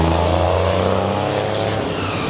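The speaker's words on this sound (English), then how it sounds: "Miami is loud, whether it's the dump trucks or it's constructions." Loud downtown Miami street traffic with heavy vehicles such as dump trucks, a steady low engine rumble and roar filling the whole stretch without a break, close and dense, with no voices.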